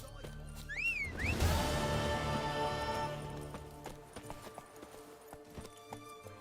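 Roach, the horse in The Witcher 3, clip-clops in a steady near hoofbeat rhythm that starts after a brief whistle-like chirp, holding loud for a few seconds and then thinning toward the end.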